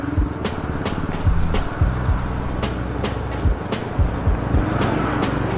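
Heavy road traffic rolls past near Malaria along the MRT-7 route from San Jose del Monte to Fairview, a loud, steady roar of engines with repeated vehicles passing close by.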